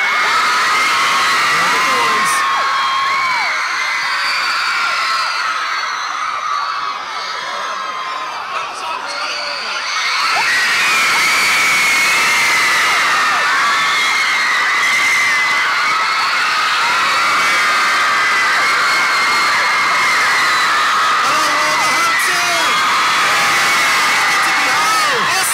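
A large concert crowd screams and cheers continuously for the boy band at a Wolverhampton event, loud and dense throughout with a brief dip in the middle.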